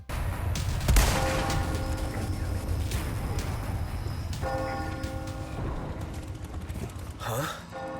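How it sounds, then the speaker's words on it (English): A large town bell in a video game strikes, its tone ringing out and lingering, then tolls again a few seconds later over a dense background din. "the sequence ends the same way, with the town bell ringing"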